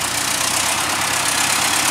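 Tractor engine running with no rear counterweight fitted, a steady loud idle-like rumble and drone holding evenly throughout with no talk.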